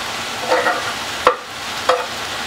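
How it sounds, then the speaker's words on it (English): Pork, broccoli and courgette stir-fried in a wok: a constant close sizzle of frying, broken by a few short scraping stirs of the spatula against the pan. "Next it says to add the broccoli and courgette."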